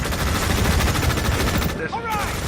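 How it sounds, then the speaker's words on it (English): Rapid machine-gun fire from the video game EndWar rattles continuously and loudly before briefly cutting out, with a radio-style voice speaking near the end. "Hostiles in range. Opening fire."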